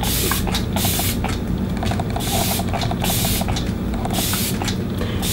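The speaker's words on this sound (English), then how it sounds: "I like to take my Kat Von D setting spray and just melt all this shit together." Kat Von D setting spray misted in repeated bursts, a steady hissing spray with short pauses between pumps, close and alone.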